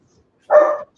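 A dog gives one sharp, close bark in an otherwise quiet room.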